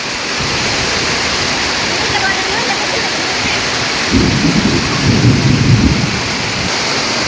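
Heavy rain roars steadily throughout, with a deep rumble of thunder swelling briefly near the middle.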